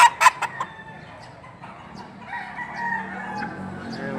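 Gamefowl roosters at a Padre Garcia, Batangas poultry market crow and cluck, with a few sharp bursts at the start, followed by a long, drawn-out crow amid market noise.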